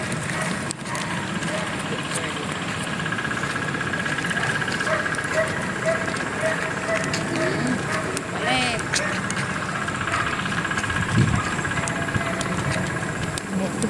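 A motorcycle engine idles steadily close by at a countryside roadside, a continuous low rumble running under chatter and exclaiming voices throughout.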